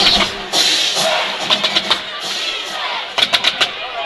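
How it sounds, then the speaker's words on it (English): A home crowd at a football game roars steadily to fire up the defense, a dense wash of cheering with rhythmic claps and shouts rising in pulses, broad and distant. "the home crowd trying to fire up that defense"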